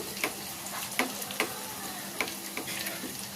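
Hot oil spooned over khaja pastry frying in a pan, a soft continuous sizzle with a few sharp ticks and clinks of the spoon against the pan, close and fairly quiet.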